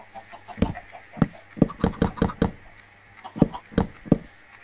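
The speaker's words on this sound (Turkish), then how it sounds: "tavuğumuzu yanına koyalım" Minecraft chickens cluck in a rapid series of sharp, close bursts that come in two clusters, with no talk over them.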